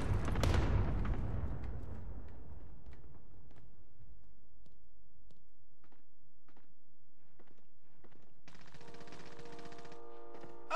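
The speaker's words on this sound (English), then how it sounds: "Oh, they're shooting each other." Gunfire in the video game Call of Duty Warzone, a burst of loud shots at the start that decays into faint, scattered distant pops, followed by a steady electronic tone near the end.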